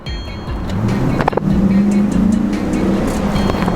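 A 2003 Chevrolet Silverado pickup with about 200K miles and a faulty transmission accelerates. Its engine rises into a loud, steady roar after a brief clunk, heard up close from inside the cab with no talk.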